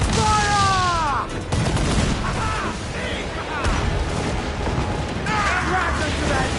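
Ship cannon volleys in Assassin's Creed 4 Black Flag, booming bursts and crackling fusillade mixed under shouted crew voices and battle noise, loud and close with the blasts arriving irregularly.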